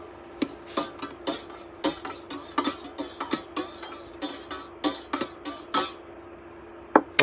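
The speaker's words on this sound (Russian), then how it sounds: "возьми ложку и создай в воде воронку" A metal spoon stirs water in a saucepan to make a whirlpool before poaching an egg, with repeated scraping clinks against the pan in an uneven rhythm, close and fairly loud.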